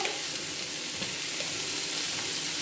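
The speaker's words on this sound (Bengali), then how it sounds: "হালকা লালচে করে একটু ভেজে নিলে হয়ে যাবে।" Dalia (broken wheat) fries in a pan until lightly reddish, giving a steady, even sizzle that continues unbroken throughout with no voices.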